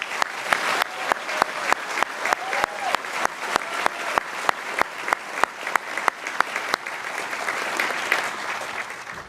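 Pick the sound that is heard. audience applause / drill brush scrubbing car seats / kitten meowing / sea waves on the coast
audience applause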